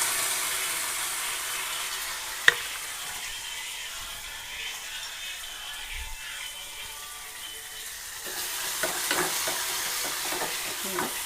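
A tempering of mustard seeds, asafoetida and curry leaves, then tomato, frying in hot oil gives a soft, steady sizzle with a sharp clink early on. The sizzling swells louder and busier with stirring near the end.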